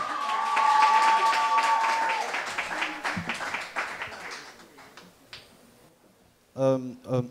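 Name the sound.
audience applause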